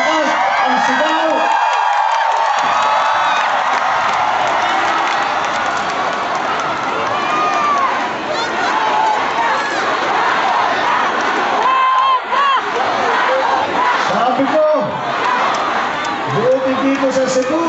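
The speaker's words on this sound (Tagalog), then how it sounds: "naririnig ko na ang inyong mga sigaw" A large crowd at a political rally in Cebu cheers and shouts continuously, a dense roar of voices with whoops rising over it, loud and close throughout.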